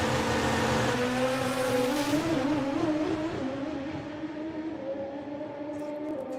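A drag racing motorcycle making a solo final run at the Easter Nationals, a loud sustained engine roar that climbs steadily in pitch and then fades as it pulls away into the distance.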